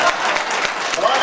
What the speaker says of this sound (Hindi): तालियां कमजोर हैं आपके आनंद।